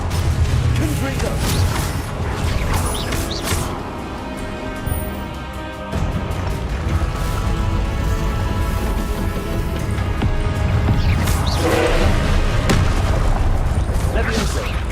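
Repeated Confringo explosive-spell blasts in the Hogwarts Legacy video game, heavy booming bursts and crackling debris across a continuous loud battle soundscape, with a player talking over the action.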